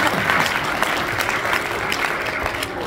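An audience breaks into dense, continuous applause, many hands clapping together at an even level for a few seconds without pause.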